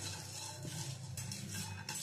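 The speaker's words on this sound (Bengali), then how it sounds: "শুকনো খোলায় মশলাটা কিছুক্ষণ ধরে ভেজে নেব।" Nutmeg, mace and other whole spices for a chicken darbari masala are stirred in a dry pan, giving soft scraping and light clinking against a steady low background hiss, close and faint, without speech.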